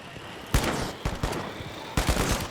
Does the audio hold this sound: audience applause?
no